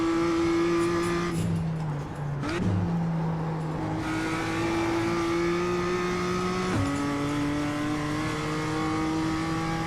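BMW M2 race car engine in iRacing at the Okayama circuit, revving steadily through the gears with clear upshift drops and a brief dip under braking, loud and close with no talk.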